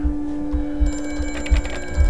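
An old-fashioned telephone bell rings in repeated bursts in the horror game Amnesia: A Machine For Pigs, loud and close against a steady low electrical hum.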